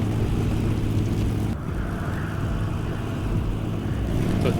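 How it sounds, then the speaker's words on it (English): Dark Angels motorcycle engine in a Warhammer 40K animation, a continuous heavy rumbling roar with a slight dip partway, loud and sustained with no talk. "So Dark Angel's motorcycle."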